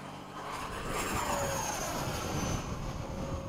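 An F-5 jet aircraft makes a low pass, heard as a steady, broad roar with a faint rising whine, moderately distant and fairly quiet throughout, no voices.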